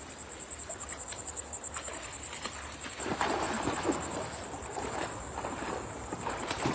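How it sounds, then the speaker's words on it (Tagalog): Night insects, crickets among them, chirp in a steady high-pitched drone over a fishing spot in the Philippines, with faint low rustling and louder noise swelling after a few seconds. "Marami po yung lumilipad na insects."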